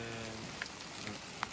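Hail falls during a summer storm on a mountain hike, a steady patter of icy pellets with a few sharper, close impacts standing out against the constant wash.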